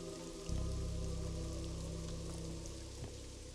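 Steady rain patters and hisses in the video game Pathologic 2, a dense even wash with a low droning hum underneath and a few faint thuds.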